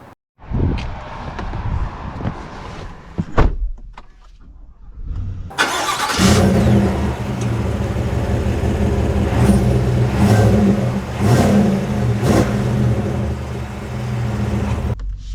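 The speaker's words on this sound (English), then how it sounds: "And let's see how it drives." A 2024 Cadillac Escalade V8 starts with a few short bursts, goes quiet briefly, then settles into a steady, fairly loud engine drone and road noise as it drives off.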